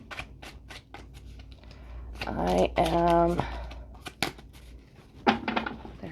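Tarot cards are shuffled by hand in short riffling bursts near the middle, close and crisp. They are mixed with a few light taps, and a voice speaks briefly around them.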